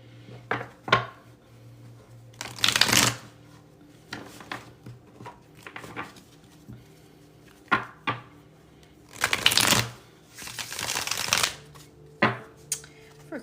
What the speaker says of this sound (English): Let me put away this other tarot deck here.